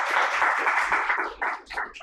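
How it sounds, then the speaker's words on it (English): A conference audience applauds to close a session on circularity in India's renewable energy sector, a dense wash of many hands clapping steadily, fairly loud and close, then thinning into scattered claps. "Can we have a round of applause for this session?"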